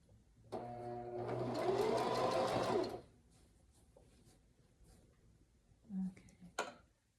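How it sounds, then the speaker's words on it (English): A Singer sewing machine stitches a straight seam on a pillow in one steady whirring, rapidly ticking run of about two and a half seconds, followed by quiet handling clicks. "I'm finishing up the seam, the straight stitch all the way down"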